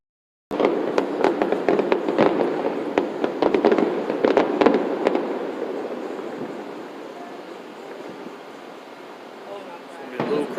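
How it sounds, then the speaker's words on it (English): Fireworks at the 2019 Wawa Welcome America display go off as a rapid run of sharp cracks and booms that later thin into a rumbling wash. People talk faintly in the background. "They got the best fireworks."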